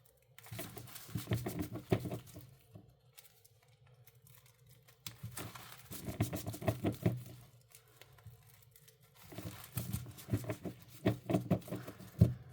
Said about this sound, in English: These sleeves are getting a little old, makes it goofy to shuffle this.